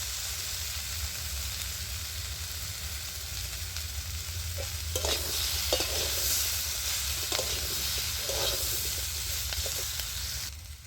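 Vegetables with salt and turmeric are stir-fried in a pan, a constant loud sizzle under occasional scraping and clinking stirs, steady throughout with no voices.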